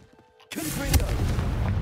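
After a brief quiet moment, a sudden heavy blast erupts from the Confringo blasting spell in Hogwarts Legacy, its deep boom rolling on as a sustained rumble.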